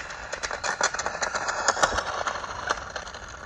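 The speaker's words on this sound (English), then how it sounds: "That's full throttle now." A Donkey Kong RC car driven at full throttle on a 2S battery, about 48 km/h: a buzzing, rattling electric drivetrain whine with rapid pulsing, moderately loud outdoors, with no talk.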